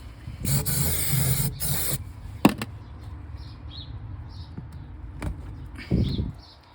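A couple of bursts of hissing silicone aerosol spray onto a rubber-to-40mm pipe reducer, the first lasting over a second, followed by quieter clicks and a final short spray near the end.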